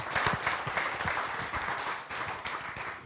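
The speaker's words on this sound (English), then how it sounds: "Round of applause for the panel." A summit crowd applauds the panel at a real estate agents' event, a fairly quiet but continuous patter of many hands clapping, with a few nearer claps popping out, no voices.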